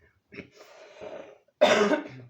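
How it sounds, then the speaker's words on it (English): A single person coughs and clears their throat in a few short bursts, ending with one louder, harsher cough close by. "That was a random cough."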